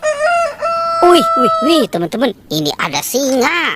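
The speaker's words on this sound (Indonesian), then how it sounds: "Wah, ada ayam berkokok." A toy rooster crows loudly and repeatedly in a rising and falling electronic cock-a-doodle-doo, with a person talking over it near the end.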